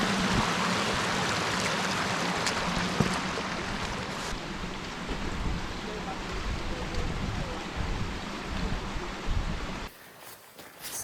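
Small river flowing at a crossing on the Waun Rydd walk in the Brecon Beacons, a steady broadband rush of water that runs continuously, dropping away suddenly near the end.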